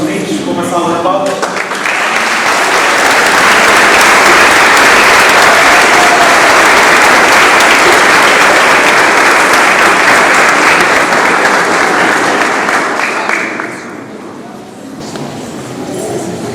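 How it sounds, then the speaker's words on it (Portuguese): A community crowd at a Portuguese scouting promise ceremony on Terceira in the Azores gives a long, loud, sustained round of applause for the children, steady for about twelve seconds before easing off, with a voice speaking at the start. "com a comunidade, aclamamos os nossos meninos com uma salva de palmas"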